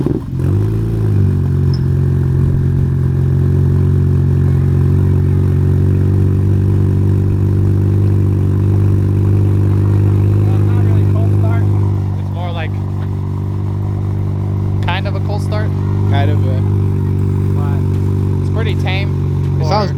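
A BMW 335i engine with a single exit exhaust runs loud and close, holding a deep, steady drone with small shifts in pitch, while voices chat briefly near the end.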